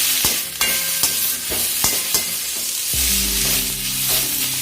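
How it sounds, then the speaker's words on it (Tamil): Mudakathan greens sauté with tamarind and salt in a pan, a constant close sizzle with repeated spatula knocks and scrapes, heard alone without talk. "அது வரைக்கும் நம்ம நல்லா வணக்கிடுவோம்"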